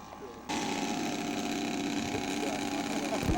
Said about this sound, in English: Gary's got a 3-cylinder Sato in that aircraft